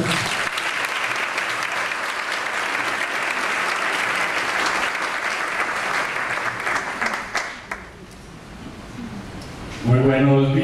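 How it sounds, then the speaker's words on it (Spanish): A school parents' association audience gives a warm, sustained round of applause welcoming a guest speaker, steady for about eight seconds before tapering off as a voice begins speaking. "Recibamos a nuestro invitado con un caluroso aplauso"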